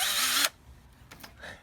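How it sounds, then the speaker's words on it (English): A power drill whines loudly into a car bumper for about half a second, then stops, leaving quiet handling noises and faint clicks. "drill in here, drill in your bumper"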